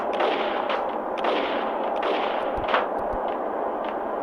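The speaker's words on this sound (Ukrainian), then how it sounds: "Десь стріляє, а де не видно." Gunfire in the video game Max Payne, sharp gunshots cracking in quick succession over a dense, steady rumble of game background noise.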